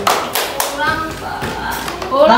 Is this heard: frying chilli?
no